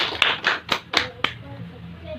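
A small group claps briefly during an Indonesian group guidance session, with several sharp, uneven claps in the first second and a half before fading out.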